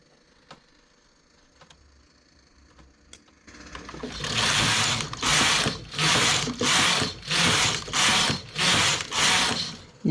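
A knitting machine carriage sliding back and forth while knitting lace rows, loud whooshing mechanical passes in a steady rhythm of about eight strokes after a few quieter clicks and taps.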